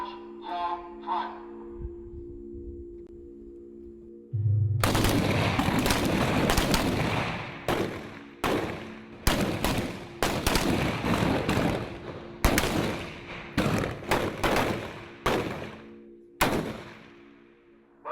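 Bursts of gunfire crack out during a military training exercise, loud and sharp, arriving in quick irregular clusters after a quieter opening with faint calls and chatter in the background.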